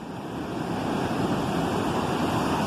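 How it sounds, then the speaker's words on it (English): Ocean waves and surf roar in a steady, broad wash with a continuous wind-like rush and no distinct breaks, fairly loud and close. "You can play chicken with those waves if you want. Or you could get out into the surf."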